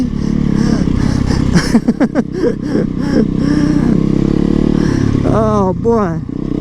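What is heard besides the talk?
motorcycle being ridden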